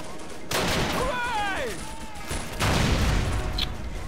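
Battlefield gunfire from the World War II strategy game Faces of War, with dense, sustained bursts rolling through a noisy combat mix alongside a brief whistling tone, and a second loud volley near the end.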